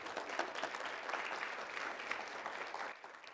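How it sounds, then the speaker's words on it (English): Steady applause from a crowd, dense clapping that holds evenly for a few seconds and then thins slightly at the end. "So how about a big round of applause for Alexis?"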